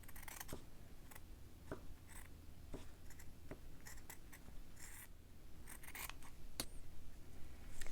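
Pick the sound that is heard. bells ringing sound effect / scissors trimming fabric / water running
scissors trimming fabric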